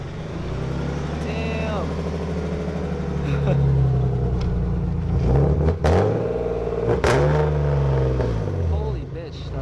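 A BMW E30 with a swapped-in M50 engine fires up and revs repeatedly, loud and close, each rise and fall of revs sweeping up and back down, while a voice briefly exclaims over it.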